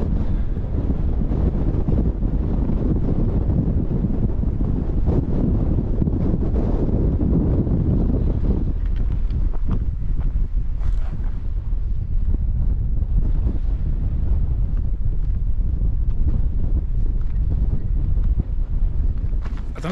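Strong wind on an exposed coastal path near Lynmouth and Lynton buffets the microphone in a steady, heavy low roar throughout, easing slightly partway through but never letting up.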